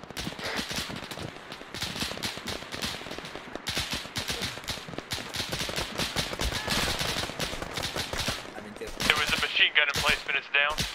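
Rapid automatic gunfire from an M2 emplacement in ARMA 3, a dense unbroken stream of shots and distant fire that runs steadily throughout at moderate loudness.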